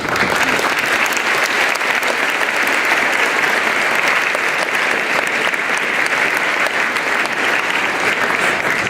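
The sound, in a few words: assembly audience applauding honor guard and taps players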